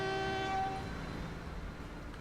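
A train in the video game Transport Fever, a short horn blast with tonal harmonics fading into low rolling rail rumble, fairly close, with no speech.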